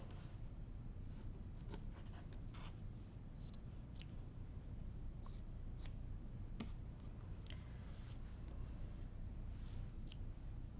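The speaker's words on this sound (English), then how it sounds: "I am going to cut my little squares out of the corner" Scissors snipping small squares from the corners of cross-stitch fabric, a series of faint, crisp, irregularly spaced clicks over a quiet room hiss.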